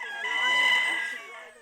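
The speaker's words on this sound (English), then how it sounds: "Chickens are also raised." A rooster crows once in an agrarian Embera village, a single drawn-out call that rises and then fades, sounding somewhat distant and moderately quiet.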